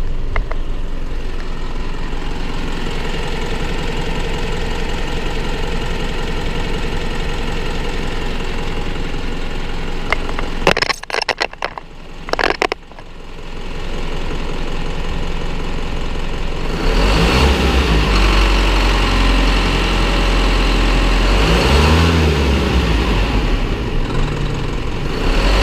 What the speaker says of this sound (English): I'll let you guys listen to this engine here.